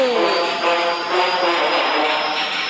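A helicopter in the Granny Chapter 2 video game runs with a continuous whirring engine drone and a faintly pulsing, rotor-like texture, heard alone at a steady level.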